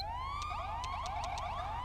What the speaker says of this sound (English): When I go to flick through the sirens